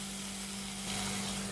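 Capsicum butter chicken in yogurt and salt cooks under a lid in a covered pan, giving a soft steady sizzle with a low hum and no talking.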